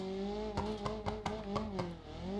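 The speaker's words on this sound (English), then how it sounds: "it's gonna overheat very fast because how much I'm revving it" Car engine in the driving game BeamNG.drive, held at high revs and straining, with a steady buzzing drone broken by a series of short regular surges, heard alone without talk.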